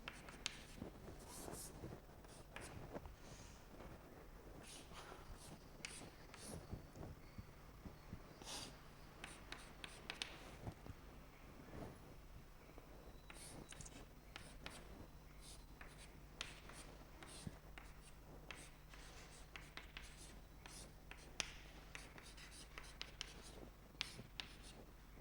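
Marker or chalk strokes on a board during a chemistry lesson, faint scratchy taps and swipes in irregular bursts over a low steady room hum.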